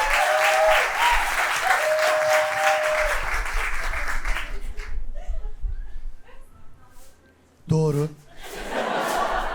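Stand-up comedy club audience in Turkey applauding and chuckling as a comedian is called to the stage, loud clapping that fades into a quieter stretch before a brief burst and renewed applause, with some voices.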